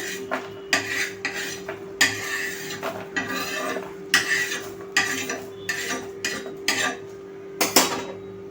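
A spoon scrapes dry-roasted chutney ingredients with curry leaves out of a pan onto a plate in a series of short metallic scrapes and clinks, close and irregular, with a low steady hum underneath.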